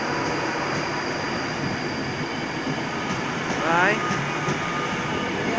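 Class 390 Virgin Trains electric train departing a station on a London service, a steady broad rumble and hiss of the moving train with a brief squeal of wheels near the end, and a voice speaking briefly.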